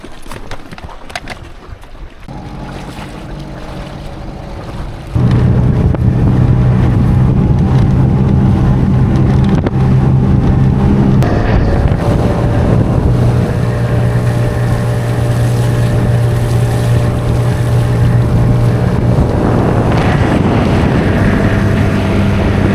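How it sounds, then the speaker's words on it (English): A small dinghy outboard motor idles, then revs up and drones steadily over open water at an anchorage in Fiji, with wind buffeting the microphone throughout. "I'm gonna take the dinghy around"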